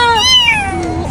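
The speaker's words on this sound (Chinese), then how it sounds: "还像是那种小奶猫" A small stray kitten gives a single loud, close, high-pitched meow that rises and then slides downward, heard on its own without talk.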